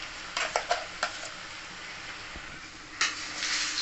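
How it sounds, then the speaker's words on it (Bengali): A spoon stirs ground urad dal paste in a pan over ginger and chilli for Bengali radhaballavi, with several distinct scraping knocks, a gentle sizzle in between and another scrape near the end. "একটু ভালো করে এখন নেড়ে টেড়ে এটাকে আমি লাগতে দেবো না"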